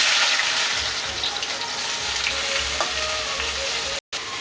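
Onions frying in a pan for chicken kosha, alongside whole garam masala, make a dense continuous sizzle heard close by, with low rumbling and a brief cut near the end.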